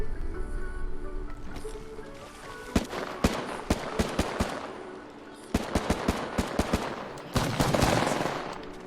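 Rapid video-game gunfire in an Xbox shooter match, with bursts of sharp automatic shots cracking in clusters and single pops spaced across the stretch, loud and close, over a dense background of game ambience.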